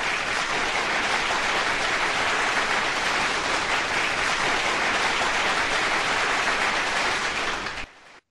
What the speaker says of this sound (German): Ja, und da gibt's erstmal einen Applaus für euch.